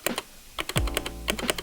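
Close typing on a Rexus Daxa M71 Pro mechanical keyboard: a few crisp key clicks, one heavier spacebar thud, then more quick keystrokes.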